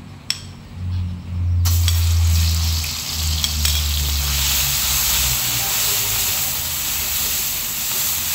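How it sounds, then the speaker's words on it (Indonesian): Onion spice paste sautés in a hot pan for a banana blossom dish. A steady, loud sizzling hiss starts after a short quieter moment and carries on without a break, with a low rumble underneath. "Ini aku tumis dulu bumbu bawangnya biar aromanya keluar"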